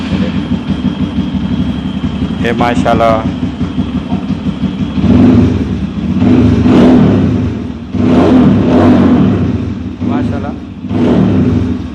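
A motorbike fitted with an aftermarket silencer idles with a deep, steady rumble close by, then revs in several rising bursts; someone speaks briefly over the engine.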